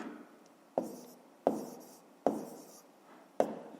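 Pen or pencil strokes writing out a sum by hand, four short scratchy bursts spaced about a second apart, close and fairly quiet, with no talk.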